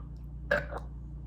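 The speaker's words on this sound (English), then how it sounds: "I hate when my burps sound like they're stuck in my throat" A short, throaty burp from an eater during a McDonald's meal of Big Mac, McNuggets and Coca-Cola, a single close gulping eruption lasting about a quarter second over quiet room tone.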